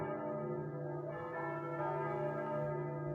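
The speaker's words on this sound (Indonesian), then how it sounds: "Lonceng gerejanya bunyi biasanya." A church bell rings continuously, its rich overlapping tones sustained and resonant throughout, with no voices.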